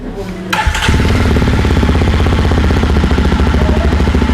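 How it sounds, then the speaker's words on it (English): A Yezdi Roadster motorcycle engine starts up and settles into a loud, throaty, bassy idle with a rapid, steady thumping pulse close by. "we're awaiting the exhaust note"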